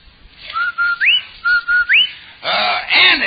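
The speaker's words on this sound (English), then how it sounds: "That's the Rinso White whistle." A vintage radio advertising jingle for Rinso White soap: a clear two-note whistle phrase with a rising upward slide, repeated twice, followed by two lower tonal hoots, crisp and close with no talk over it.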